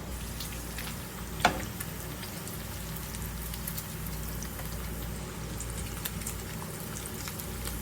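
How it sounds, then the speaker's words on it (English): Bacon frying in a pan for farmhouse potato soup, a steady close crackle and sizzle of fat that holds even throughout, with one brief sharp pop early on. "while we cook our bacon"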